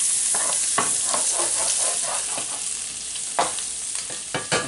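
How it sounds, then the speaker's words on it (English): Butter melts in a hot pan for beef stroganoff, giving a steady, bright sizzle with a few scraping stir sounds near the end, no voices over it. "Melt the butter."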